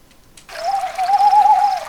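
An owl hoot sound effect plays as one clear, sustained tonal call. It starts suddenly out of near silence and holds steady at full loudness until the end.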